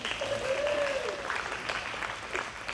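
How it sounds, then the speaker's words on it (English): Audience at an identity theft seminar applauds the women presenters, a steady wash of clapping throughout with a brief voice rising over it near the start. "How about a round of applause to these ladies?"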